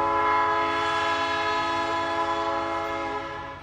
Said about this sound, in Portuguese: Aqui atrás tem a linha do trem. Aqueles trem de carga, sabe?